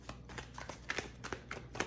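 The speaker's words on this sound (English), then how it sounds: "I'm going to actually shuffle a little before I start my shuffling" Tarot cards being shuffled by hand give a string of soft, quick riffling and slapping bursts at an uneven rhythm, close and quiet, with no talking.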